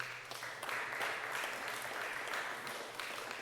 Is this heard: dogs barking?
no